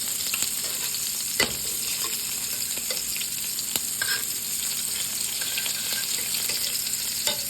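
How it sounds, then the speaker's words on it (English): Cornstarch-coated shrimp fry in a pan for Baja-style tacos, giving a steady, close crackling sizzle with occasional sharper pops and scrapes, continuing without pause. "I'm gonna cook them for a couple minutes on each side because shrimp is very quick to cook."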